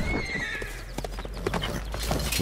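Horse neighing in The Witcher 3: Blood and Wine, a loud whinny amid galloping hoofbeats and game action noise, continuous throughout with no speech.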